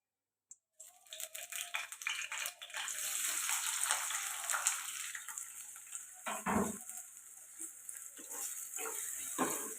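Chopped onions and green chillies dropped into hot oil for chicken fry, giving a steady close sizzle and hiss with a few stirring clatters mid-way, no talking.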